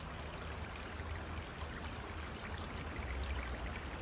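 A woodland stream babbles faintly and steadily with a soft, continuous trickling wash and no voices, with a high insect-like whine over it.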